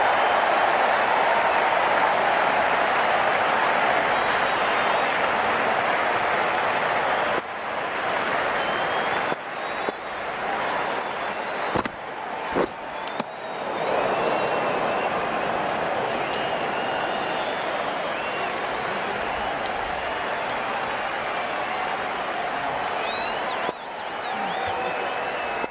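A stadium crowd applauds in the cricket video game Cricket 19, a long, steady wash of clapping that dips briefly in places, then swells back and keeps going.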